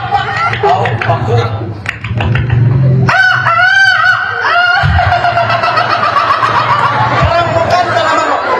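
A beatboxer's voice imitates a rooster crowing, a loud rising and falling cock-a-doodle-doo in the middle of the clip. Bursts of laughter and chatter come before it, and crowd murmur follows.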